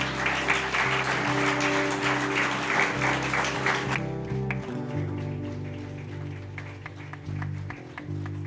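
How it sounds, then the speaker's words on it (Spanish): Congregation applause at a Spanish-language church service, clapping over loud sustained music for the first half, then thinning as the music carries on alone. "darle un aplauso al Señor"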